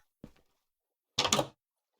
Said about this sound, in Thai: เฮ้ยลองเปิดประตูออกไปดูดิ